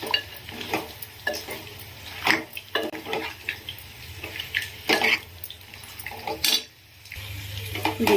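A spoon stirs red chilli powder and coconut powder into hot oil in a pot for goat head curry, giving irregular scraping strokes and clinks over a soft, steady sizzle.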